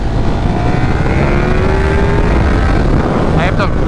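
Powerful KTM 1390 Super Duke R Evo motorcycle pulling hard under acceleration with a rising engine whine, heard as a loud, continuous roar through heavy wind rush.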